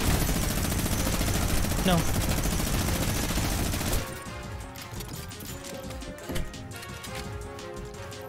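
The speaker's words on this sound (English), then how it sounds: "He's got the god minigun." A minigun blazes in Fortnite, a dense continuous roar of rapid gunfire for about four seconds that cuts off abruptly, followed by quieter game sounds and a brief spoken word.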